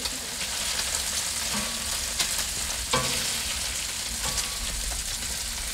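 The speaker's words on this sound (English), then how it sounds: "the one thing I'm not going to like about cooking bacon on the Blackstone" Bacon fries on a Blackstone flat-top griddle, a dense continuous sizzle and crackle with occasional scraping or spatula clicks, steady and close throughout.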